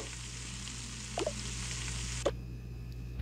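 Food frying on a stovetop makes a steady broadband sizzle that holds throughout, with a couple of brief utensil clinks partway in and the hiss dropping slightly near the end.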